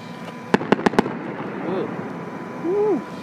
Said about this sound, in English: I won't be able to hear the fireworks going off